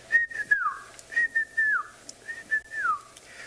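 A person whistles an imitation of the white-faced whistling duck, three clear repeated phrases of high, sliding notes in a steady rhythm, close and alone against a faint outdoor background on a South African safari.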